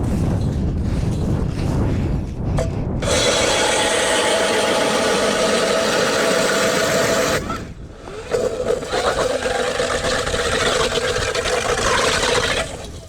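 URAL electric ice auger boring holes through lake ice, a steady broadband whirring drone that runs continuously, briefly cuts out between holes, then resumes at full strength, loud and close with wind noise underneath.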